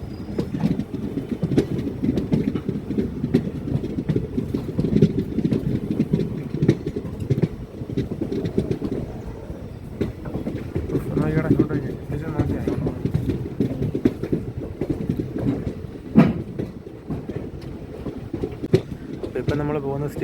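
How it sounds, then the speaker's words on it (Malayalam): A Velankanni–Ernakulam passenger train runs past Edamon station in Kollam district on a foggy morning, giving a steady, continuous rumble of rolling wheels and engine throughout, with brief faint tonal squeals partway through. "കോടയൊക്കെ ഇറങ്ങി ട്രെയിൻ പോകുന്നത് കാണുന്നത് നല്ലൊരു ഭംഗിയാണ്."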